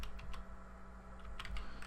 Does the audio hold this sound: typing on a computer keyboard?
yes